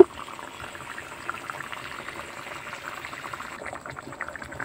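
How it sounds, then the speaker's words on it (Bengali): Broth poured into a simmering eggplant curry with pangas fish, a steady close bubbling and liquid wash running throughout with no talk. "তরকারিতে ঝোল দিয়ে দিচ্ছি।"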